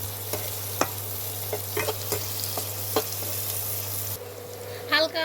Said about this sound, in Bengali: আমি এগুলোকে হালকা আগে ভেজে নেব, তারপর আমি রসুন বাটাটা দেব।